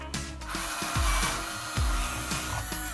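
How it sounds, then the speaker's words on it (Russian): A power drill fitted with a drilling attachment bores into a wall to hang a picture, whirring steadily with repeated rising bursts as the bit bites in, loud and close without talk. "Но это вы сейчас Плавно просверлили"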